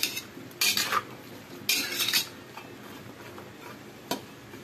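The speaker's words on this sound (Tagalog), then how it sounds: "Haluin natin guys." A utensil scrapes and stirs string beans in a pot of ginataang gulay with crablet, in a few short clattering bursts with quiet pauses between them.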